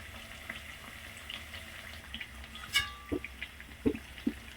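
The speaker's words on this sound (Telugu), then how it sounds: "లో ఫ్లేమ్లో పెట్టుకొని గోల్డ్ కలర్ వచ్చేదా ఫ్రై చేసుకోండి" Masala vadas frying gently in oil over a low flame, a soft continuous sizzle with a few scattered pops and crackles, fairly quiet and close, with no talking.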